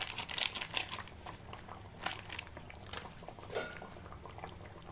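A pot of rohu fish curry simmers at a boil, soft bubbling and popping close by, quiet and steady with a few small clinks and rustles.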